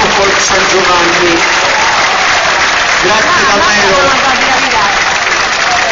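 Loud, dense applause from a crowd at the Autunno in Barbagia folk festival in Belvì, Sardinia, roaring continuously throughout, with someone briefly speaking over it.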